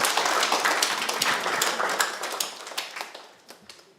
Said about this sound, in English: So let's welcome Yongsang Academy with a big round of applause